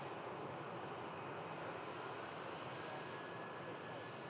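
A BA shuttle airliner at Manchester Airport spooling up its engines for the takeoff roll, a broad steady roar with a rising turbine whine, loud and continuous with no voices.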